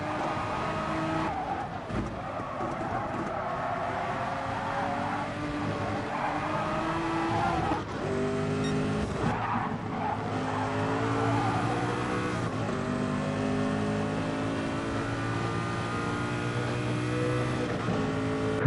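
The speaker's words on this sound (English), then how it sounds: "I mean, just listen to how beautiful these cars are." Loud, continuous roar of Gr.1 racing car engines in the video game GT Sport at Le Mans, with layered revving tones and occasional shifts in pitch, sustained throughout with no talking.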